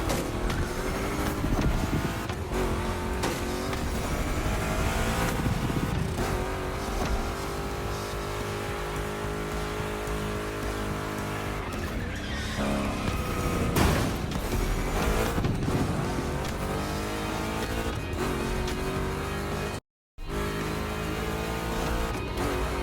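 Chevy big-block race car engines roar and rev continuously in The Crew Motorfest, loud and close, with gear changes and a steady sustained drone throughout and a brief cut near the end.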